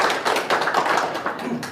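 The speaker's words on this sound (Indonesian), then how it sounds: "Tepuk tangan dulu." Dense, steady clapping from an audience at an Indonesian lecture on terrorism and ideology, a continuous patter of many hands with no voices over it.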